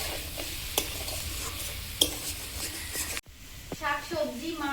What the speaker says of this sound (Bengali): এবার আরেকটু ভেজে দেবো।